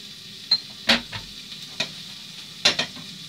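Vegan fried rice sizzling in a pan while a utensil scrapes and stirs, sharp clinks and scrapes at irregular intervals over a soft, constant frying hiss.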